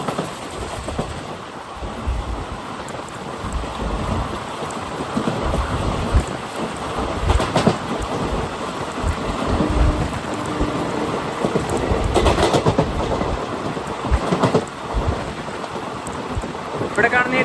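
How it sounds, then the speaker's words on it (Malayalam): The Humsafar Express bound for Bangalore from Thiruvananthapuram North rolls past as a continuous loud rumble and rattle, with sharp clanks rising now and then over the steady noise. "ഇവിടെ കാണുന്ന ഈ ട്രെയിനില്ലേ, ഇത് ബാംഗ്ലൂരിലേക്ക് പോകുന്ന ഹംസഫറാണ്"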